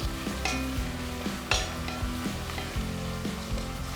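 Small onions frying in a pan for capsicum masala rice, a close steady sizzle with utensil stirring and occasional clinks of a spoon against the pan, no speech.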